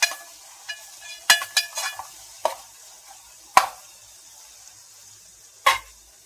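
Onions frying in oil in a small bachelor-room kitchen, scraped and stirred with a steel spoon: faint background sizzle broken by a handful of sharp metallic clinks and scrapes at irregular intervals, nearby and without talk.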